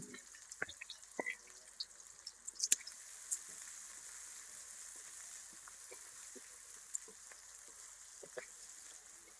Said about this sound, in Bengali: পেঁয়াজ লাল লাল করে ভাজা নেব।